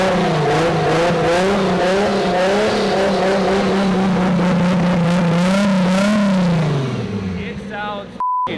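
Four-door Toyota Supra on its first test drive, the engine roaring loudly and steadily with rising and falling revs, then winding down before a brief electronic beep at the end.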